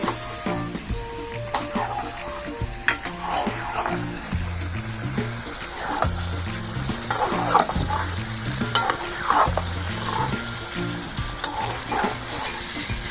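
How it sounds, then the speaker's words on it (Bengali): Chicken curry being stirred in a frying pan, a steady sizzle with scraping and stirring sounds running throughout, over faint background music with no talk. "এবার আমি চিকেনটা নেড়ে চেড়ে দেব।"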